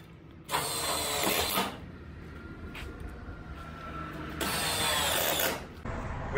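A power driver sets Tech 5 fasteners into the seal retainer of a bifold hangar door, two loud whirring bursts of about a second each, close by, separated by quieter handling noise.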